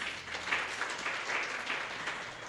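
A lecture audience breaks into continuous applause, a dense, steady wash of many hands clapping at moderate loudness with slight swells throughout.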